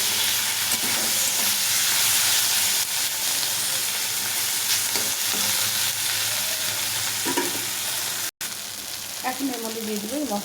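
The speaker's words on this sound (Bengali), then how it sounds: "দিয়ে এটাকে ভালো করে ভেজে নিতে হবে টমেটোর সাথে" Soya beans frying in a pan with tomato and turmeric give a steady, loud broadband sizzle with scraping stir strokes and a brief break near the end, no talking.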